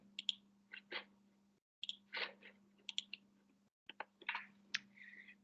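Quick bursts of keyboard typing during an online media studies class meeting, with clustered clicks in short runs separated by brief pauses, fairly close and with no talking.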